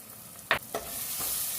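Spices such as chili, coriander and fennel powder sizzle steadily in a hot pan for an aloo baingan tempering, with a couple of sharp scraping stirs near the start.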